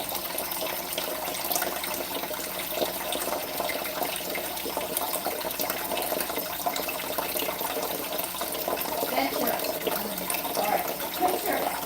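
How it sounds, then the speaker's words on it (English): Cold tap water runs steadily into a measuring cup in a kitchen, a constant hissing gush that continues unbroken at moderate loudness from start to finish. "You need 2/3 of a cup of cold water."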